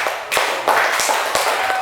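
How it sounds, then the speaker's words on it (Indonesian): Students in a classroom clap for group 1 at the end of a calligraphy presentation, a short burst of a few loud, sharp, uneven claps close by. "Ya, kita beri tepuk tangan pada kelompok 1"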